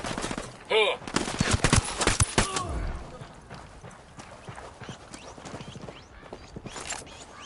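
Gunfire in the video game Ghost Recon Wildlands, with loud bursts of shots crowding the opening seconds and then sparser cracks amid background game noise, and voices talking over it.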